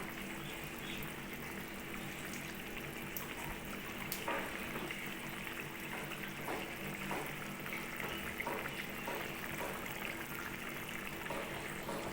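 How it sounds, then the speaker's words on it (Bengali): A potato and bitter gourd curry simmers in a pot, giving a soft, steady bubbling and burbling that stays quiet and even throughout. "এক মিনিট দু মিনিট এভাবে ফুটিয়ে নেব"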